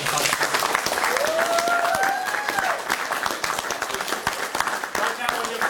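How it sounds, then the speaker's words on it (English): An audience at a talk applauds with dense, continuous clapping while a voice speaks over the crowd. "please give another round of applause to our intelligence colleagues"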